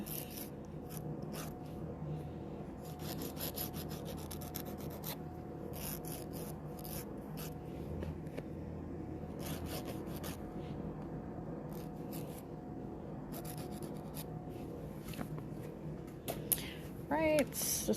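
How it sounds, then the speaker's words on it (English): An electric nail file with a medium-grit sanding band buzzes and rasps steadily against a hard gel nail in short repeated passes, close up and continuous throughout. "just gonna use a sanding band real quick"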